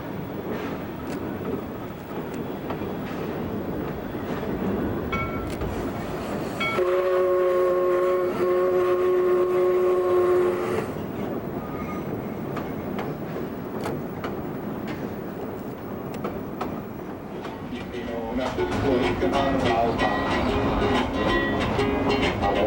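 A Lahaina, Ka'anapali and Pacific Railroad train runs along Maui's west side, its steady rolling rumble joined midway by a loud, sustained multi-tone horn blast lasting several seconds before the running noise continues alone.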